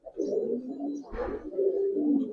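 Giribaz pigeons coo close by, low rolling calls in two long phrases separated by a brief soft thump or wing flutter, with no talking.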